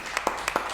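A small group of people in a podcast studio claps in a short, scattered burst of a few sharp, close hand claps.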